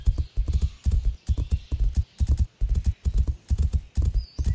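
Horse hooves clip-clop in a steady, even galloping rhythm in a horse riding video game, crisp and close, with a brief whinny and no talking.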